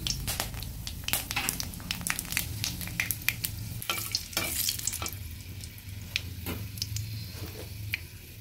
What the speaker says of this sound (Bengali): সঙ্গে দিয়ে দিচ্ছি গোটা গরম মশলা।